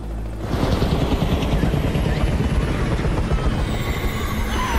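A helicopter in a zombie film flies overhead, its rotor chop loud and steady throughout, with no voices over it.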